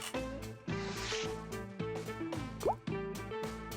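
Photo developing chemicals are mixed, with several distinct liquid drips and plops landing one after another over steady background music.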